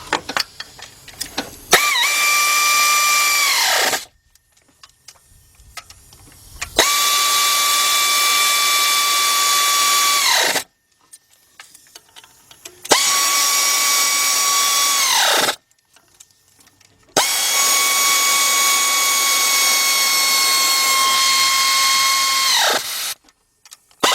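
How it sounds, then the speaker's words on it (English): A power tool tightens bolts on a Chrysler 300, Dodge Challenger, Charger, Magnum or Jeep Commander/Grand Cherokee engine, running in four loud whining bursts of several seconds each, separated by short quiet gaps. "Now we're going to start walking our way around and tightening up the rest of the bolts."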